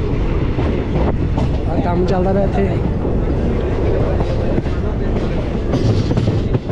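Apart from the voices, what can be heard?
train running on tracks, Jalandhar to Amritsar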